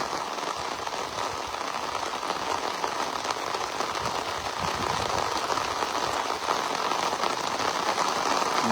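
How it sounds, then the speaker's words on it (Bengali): Heavy rain falls outdoors in rural Bangladesh, a steady, dense hiss of drops striking surfaces, loud and continuous throughout with no voices. "এই যে অনেক বৃষ্টি হচ্ছে"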